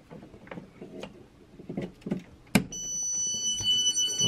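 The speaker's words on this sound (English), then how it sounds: "Okay, so there, it just beeped." A Growatt 24V solar inverter hooked up in a garage gives a steady electronic beep that starts partway through and keeps going, after a few clicks and handling knocks from the connection.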